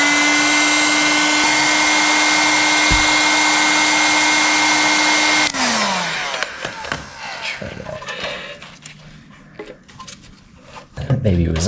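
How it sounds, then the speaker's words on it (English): A heat gun blows hot air at a stuck drain hose on old dirt bike parts, a loud steady whine for several seconds that cuts off, followed by clattering handling noises. "show you all how I get that off with my heat gun"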